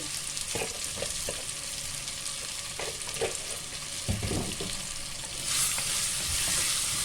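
Dried fish frying with chilli and cumin powder in a pan, stirred with a spoon, with a constant close sizzle, intermittent scraping knocks, and a brief louder hiss near the end, no voices.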